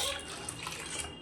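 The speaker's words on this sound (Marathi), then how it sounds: "अजून थोडंसं पाणी टाकून घेऊ" Water streams steadily into a bowl while pani puri water is being made at home, a brief, close, continuous pour.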